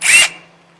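A Metabo HPT 18V triple hammer impact driver set to bolt mode gives one short, sharp burst of about a quarter second, then a brief whirring ring-down into quiet.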